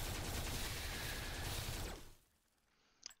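Dense burst of gunfire from the video game Tesla vs Lovecraft, a loud sustained volley that cuts off abruptly, followed by near quiet and one faint sharp click at the end.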